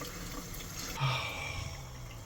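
Hot water gushes steadily from an outdoor hose at an RV, a broad hiss that swells slightly midway and keeps running without talk.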